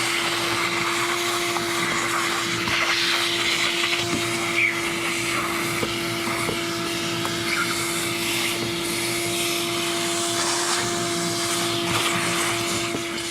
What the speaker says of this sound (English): I'm going to get a shop vac, clean this up before we get down to the sending unit.